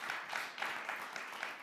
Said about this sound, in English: So let's give them a big round of applause again.